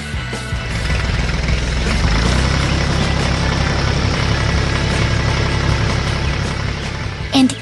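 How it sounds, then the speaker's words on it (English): A yellow dump truck's engine runs with a loud, steady low rumble that holds throughout, with a brief louder burst near the end. "here comes the yellow dump truck to finish the job"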